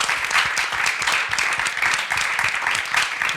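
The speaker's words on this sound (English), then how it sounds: "a round of applause, please." An audience at a panel discussion on performing the archive applauds, dense and steady clapping from many hands sustained throughout, close and fairly loud.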